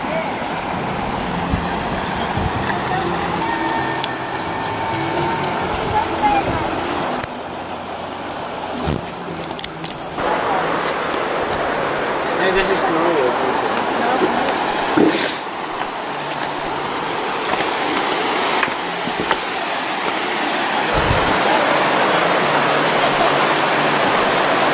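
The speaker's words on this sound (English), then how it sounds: "It's a river with fresh water coming directly from the mountain." A river of fresh water running straight down from the mountain at a spring resort in Bicol, a continuous broadband rushing and babbling flow heard up close, steady throughout with slight swells.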